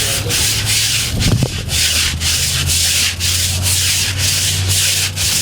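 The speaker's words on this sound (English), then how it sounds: "Scrubbing? Let's swab on the deck." The wooden deck of a replica Columbus ship is swabbed with loud, continuous rhythmic scrubbing strokes close by over a low steady hum, with no talk.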